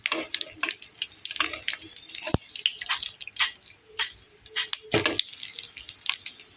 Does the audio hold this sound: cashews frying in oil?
yes